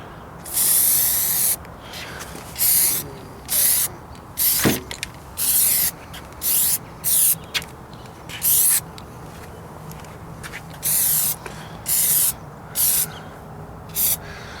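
Aerosol cans of Plasti Dip rubber coating hiss onto Honda Prelude wheels in about a dozen close, loud spray bursts, each lasting about a second, separated by short pauses.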